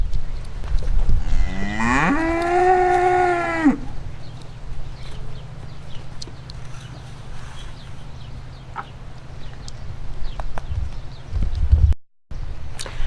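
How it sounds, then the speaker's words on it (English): One dairy milk calf lets out a single long, loud moo up close, followed by quieter farmyard background with a few faint knocks and shuffles. "Next are the milk calves."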